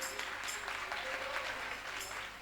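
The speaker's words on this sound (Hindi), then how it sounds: "एक बार सभी कलाकारों के लिए जोरदार तालियां।" At a Nandotsav cultural event, the crowd breaks into applause for the performers, a continuous, moderately loud patter of many hands clapping together, steady throughout with faint voices mixed in.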